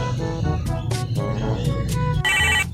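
A phone's melodic electronic ringtone plays in repeated tonal bursts over a low background hum, fairly loud and close, with the tune shifting to a brighter, denser phrase near the end.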